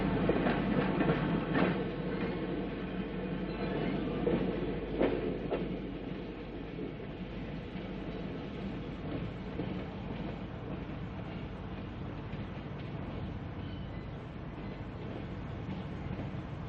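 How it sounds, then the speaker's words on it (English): The Ohio State Limited passenger train, number 15, arrives in New York with a loud, steady rumble of rolling cars and rattling wheels, strongest at first and easing slightly as it continues, with no voices. "New York is host to the arrival of the Ohio State Limited, train number 15."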